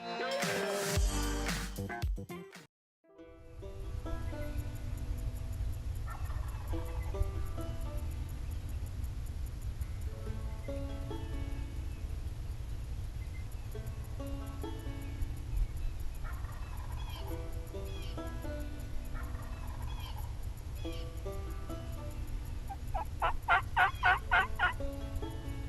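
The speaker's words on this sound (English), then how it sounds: "When I first heard this bird, it was around 7:45 a.m. and he was over 600 yards away" A wild turkey tom gobbles several times in a Kentucky spring woods on opening morning, distant and faint over a steady low background rumble, with a short louder burst of handling noise near the start.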